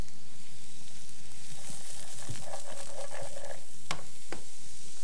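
Diced zucchini fries in olive oil in a pan with a steady close sizzle, stirred with a few sharp scraping clicks near the end.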